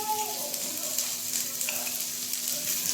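Tofu frying lightly in oil in a pan at home, giving a continuous soft sizzle and crackle heard close by, steady throughout with no talking.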